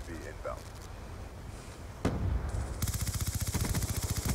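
Silenced MP7 submachine gun firing in Call of Duty Black Ops 2 multiplayer, a sudden shot followed by a fast rhythmic burst of suppressed rounds, loud and close, with game ambience and someone talking over it.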